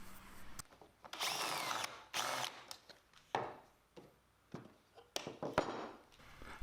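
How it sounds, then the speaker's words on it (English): A power drill drives pocket hole screws into a wooden drawer box held in a clamp, giving several loud whirring bursts separated by short pauses and brief knocks, with no talking. "I also recommend using a clamp to hold everything together while you screw in your pocket holes."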